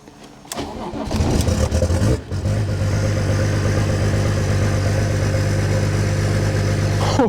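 A motorcycle that has sat unstarted for weeks cranks briefly, catches, stumbles for a moment, then settles into a loud, close, steady idle with a low rumbling exhaust that continues to the end.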